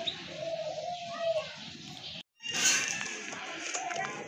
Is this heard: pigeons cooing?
yes